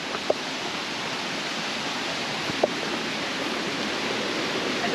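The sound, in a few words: waterfall-like rushing water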